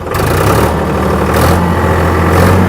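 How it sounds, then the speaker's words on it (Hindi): A tractor engine runs steadily at about 1840 rpm with the PTO engaged and the gears in neutral, a loud, even mechanical drone that holds constant throughout with no voices over it. "पहले मैं क्लच दबा के ट्रैक्टर चालू कर रहा हूँ, दोनों गियर न्यूट्रल है, पीटीओ लीवर को आगे की तरफ कर रहा हूँ तो इंजन आरपीएम 1840 रख रहा हूँ"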